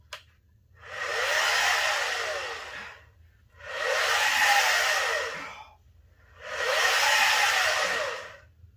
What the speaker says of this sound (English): I just turned eccentric mode on with this machine.